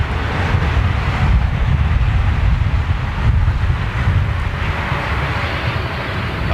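Strong wind buffets a microphone held out in the open at a Boeing 747's final flight event, giving a loud, continuous roar throughout with no speech.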